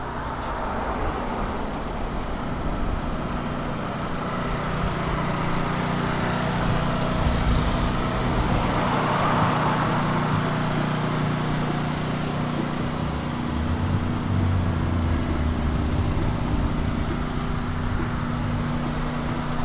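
A 1963 Studebaker truck engine runs at a steady, even idle for about twenty seconds, a close and constant rumbling drone with no change in pace.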